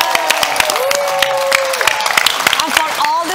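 Audience applause for a producer at the YMCA World Council 2022 conference show: dense, steady clapping throughout, with a voice speaking over it.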